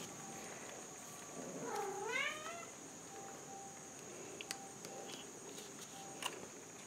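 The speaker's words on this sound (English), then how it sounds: "It sounds like the kitty snuck into the craft room and she knows she's being bad." A house cat in an indoor craft room gives a single clear, drawn-out meow that rises and falls. It is moderately faint against a quiet room hum, with a few soft clicks afterward.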